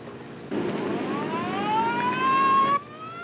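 A wailing police car siren from a 1958 film scene rises in pitch over about two seconds amid car engine noise, then cuts off abruptly.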